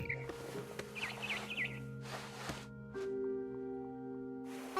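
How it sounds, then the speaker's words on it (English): In the game What Remains of Edith Finch, a barn swallow gives a short run of faint, wavering chirps near the start, set against a quiet bed of low hum and soft ambient tones. "Then I heard chirping outside my window. It was a barn swallow going back to her nest."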